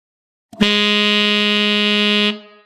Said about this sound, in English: you'll simply play the middle BB note to get it in your ear